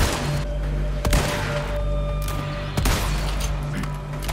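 Two sharp gunshots in a Resident Evil 4 Remake fight against enemies, spaced about two seconds apart and cutting loudly through a steady droning game background.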